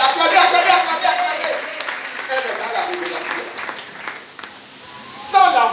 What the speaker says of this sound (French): Acclamez pour la sœur qui a dit la foi